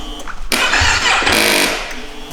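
A motorcycle engine cranks and catches at close range, bursting into a loud, steady exhaust roar that holds for about two seconds.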